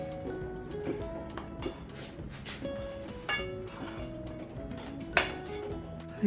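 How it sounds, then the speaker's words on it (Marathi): A spatula presses a semolina and sugar mixture in a pan, making scattered light clinks and scrapes against the metal, with a few sharper knocks, under steady tonal music. "आणि असं हे उलतांनी प्रेस करून घेते"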